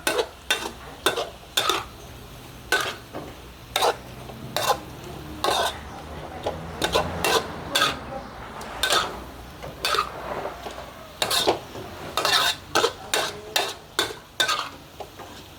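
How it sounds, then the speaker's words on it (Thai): Pork and scallions stir-fried in a pan over high heat: a steady sizzle runs underneath while a spatula scrapes and clacks against the pan in quick, irregular strokes, close up. "ผัดใช้ไฟ ใช้ไฟร้อนๆเลยค่ะ"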